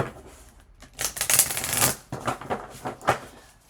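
A deck of tarot cards shuffled and drawn close up, a dense riffling flutter followed by a few separate snaps and slides of cards, with no talk.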